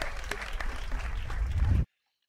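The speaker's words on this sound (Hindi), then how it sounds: "जोरदार तालियां प्रतीक" Studio audience applause on a comedy show, a short burst of clapping mixed with some low rumble and murmur that cuts off sharply into silence.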